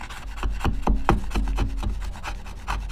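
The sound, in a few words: chiseling out wood with a sharp chisel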